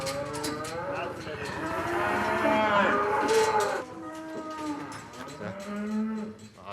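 Cattle being loaded onto a livestock truck for the slaughterhouse at a Swiss intensive farm, lowing repeatedly in long, loud moos that overlap and carry on through the stretch, close by.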